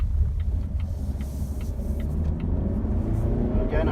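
A 2018 Volvo V90 D4 R-Design automatic with its 190-horsepower diesel pulls up a steep hill, a low steady engine drone and road rumble heard from inside the cabin, with a voice talking over it.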